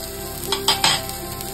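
Crabs fry in oil in a pan with a steady close sizzle, broken by a few brief louder crackles as they are stirred or turned.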